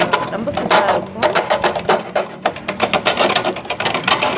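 A plastic oil bottle being cut for a mint planter, heard as a fast run of close, crisp snipping and crackling strokes at a steady rhythm.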